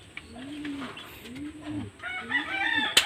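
A rooster crows three times in a row, each call a rising then falling cry at even intervals, fairly close and clear, with a short sharp knock at the very end.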